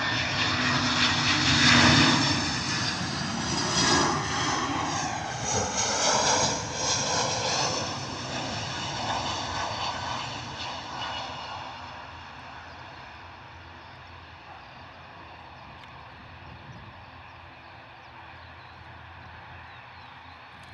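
A fixed-wing airliner lands in a crosswind at Bristol Airport, its engine roar loud at first and sweeping in pitch, then fading steadily into a distant rumble over twenty seconds.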